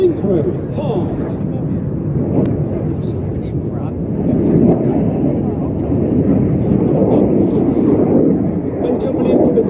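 A Red Arrows BAE Hawk T2 jet roars past at an air show, a loud continuous rushing engine noise that swells and holds, with wind buffeting the microphone.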